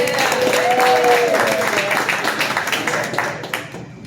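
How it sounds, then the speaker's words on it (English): An audience at a live magic show bursts into loud, steady applause that holds for several seconds before tapering off, with a voice briefly heard over the clapping. "Give them a round of applause one more time"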